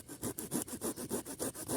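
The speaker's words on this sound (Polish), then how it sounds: "Piła składana Miltek MFH." A Miltek MFH folding saw cuts through wood in quick, regular back-and-forth strokes, about eight rasping passes, close and clear.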